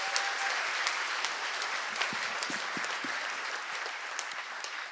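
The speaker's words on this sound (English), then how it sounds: "so we should give her a round of applause." At an economics association humor session, a conference audience gives organizer Jodi a round of applause, sustained even clapping at moderate distance that holds steady throughout.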